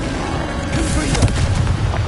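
Fire-blast spell detonating in a wizarding combat video game, a dense booming burst with crackling debris rolling over a loud continuous rumble of battle noise.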